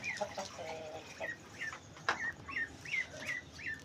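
Chickens and a rooster cluck and call in a rainy rural yard in Pakistan, a run of short repeated clucks and chirps at moderate distance, fairly faint, with no talk.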